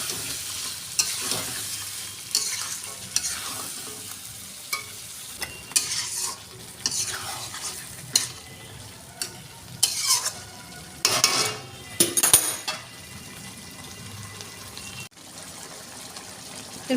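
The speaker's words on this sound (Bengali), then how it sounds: "বেশ করে কষিয়ে নেব।" Chicken coated in a ground spice paste is sautéed in a pan for a Bengali chicken kosha. A spoon stirs and scrapes steadily while the meat sizzles and hisses in uneven bursts, close by with no talking.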